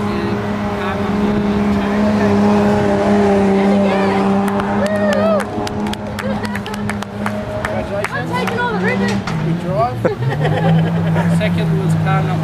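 Race cars roar through a heat on a track, a continuous loud engine drone with rising and falling pitches as cars pass, under steady talk and crowd noise.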